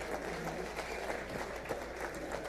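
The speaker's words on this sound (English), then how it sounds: "Another round of applause for our speaker." Applause for the speaker at a 2026 legislative retreat assembly, a steady wash of many hands clapping at moderate distance, continuous and fairly quiet throughout.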